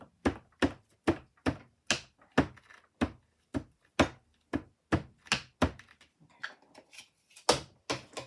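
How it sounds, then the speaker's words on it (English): A rubber stamp or ink pad pounces ink onto paper in a steady run of roughly twenty close, dull thunks, some of them bumping a camera, with brief pauses between bursts. "That's pouncing and banging the camera, of course."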